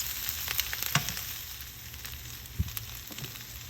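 Baby kale frying in oil in a pan as it wilts, a steady soft sizzle with a few brief crackles and pops, heard close and alone.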